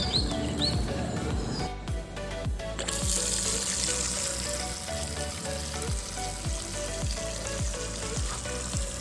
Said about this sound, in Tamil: இந்த ட்ரே ஃபுல்லாக தண்ணி விட்டுக்கோங்க.